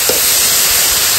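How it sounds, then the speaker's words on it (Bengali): Two kinds of leafy greens, bathua and red amaranth, fry together in a wok, giving a loud, steady hiss and sizzle close by with no talking. "এবার এই 2 রকমের শাক ভেজে নেবো, বেতো শাক আর লাল শাক একসঙ্গে ভাজবো।"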